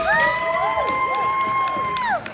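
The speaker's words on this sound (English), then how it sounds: "please give a round of applause to everybody on the stage" Crowd cheering and whooping with sustained high shouts for contestants on stage at a steampunk convention costume contest, loud and continuous with scattered applause underneath.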